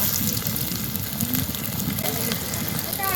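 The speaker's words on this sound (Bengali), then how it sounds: "অল্প পরিমাণ সরষের তেল দিয়ে দিলাম। মাছগুলো ভেজে নেব।" Fish frying in a small amount of mustard oil for a vegetarian-style Bengali dish, a soft continuous crackle and sizzle with faint popping, close and moderately quiet.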